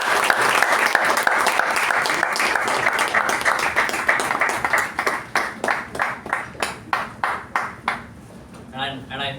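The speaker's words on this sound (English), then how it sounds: "Let us give them a good round of applause." An audience breaks into a good round of applause at an installation ceremony meeting, a dense burst of many hands clapping that thins into fewer, more distinct claps before fading out.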